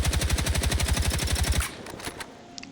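Rapid automatic rifle fire at 720 rounds per minute in Battlefield 6, a loud, steady stream of close shots lasting about a second and a half before cutting off into a fading echo and faint clatter.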